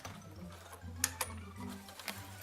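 A 1960s Pinnock Craftmatic sewing machine runs nearby with a low mechanical hum and a few sharp clicks and ticks, no voices over it.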